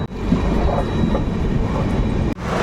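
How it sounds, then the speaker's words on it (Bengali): Vishwa Bharati Fast Passenger train pulling out of platform four, a steady, loud rumble of wheels and carriages on the rails with rhythmic clatter throughout, briefly dipping near the end. "চার নম্বর প্ল্যাটফর্ম থেকে বেরিয়ে যাচ্ছে বিশ্বভারতী ফার্স্ট প্যাসেঞ্জার"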